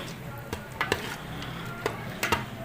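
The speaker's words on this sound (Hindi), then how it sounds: "अब इसमें मैं ये गरम मसाला भी ऐड करूँगी और इसे मैं मिक्स कर लूँगी।" Garam masala being stirred into chana dal in a pan, a soft background sizzle broken by several sharp scrapes and clinks of a spoon against the metal at irregular intervals, with no talking.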